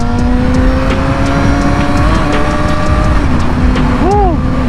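A Yamaha R6 600cc sport motorcycle is ridden and accelerated, its engine a loud, steady high-pitched whine that climbs in pitch, heard up close over heavy wind rush.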